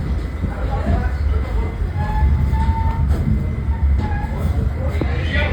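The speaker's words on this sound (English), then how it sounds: "I'm gonna stay on this train to see what happens." A New York subway D train running on the F line toward Coney Island rumbles steadily from inside the car, with wheel and rail noise and faint squeals, and voices talk over it.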